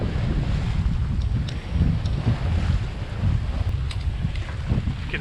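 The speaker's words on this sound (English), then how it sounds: "Here comes a few of the waves now." Ocean waves slap against a sailing boat heading out past the reef in the Southern Grenadines, heard as steady sloshing under heavy wind noise on the microphone, with no talking.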